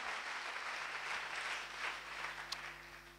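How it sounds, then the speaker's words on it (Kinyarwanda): An audience at a church sermon applauds, producing a steady wash of clapping throughout, fairly faint and even, over a low background hum. "Tubikomere amashyi menshi."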